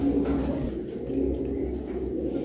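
Tournament racing pigeons perched at a Punjab loft give soft, low repeated coos over a steady background hum.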